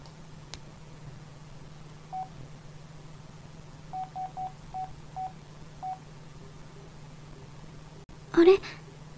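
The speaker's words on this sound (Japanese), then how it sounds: "電話してみよう。" Phone dialing tones from the video game Starry☆Sky Winter: a series of short beeps in quick irregular groups over a low steady hum, followed by a brief louder sound at the end.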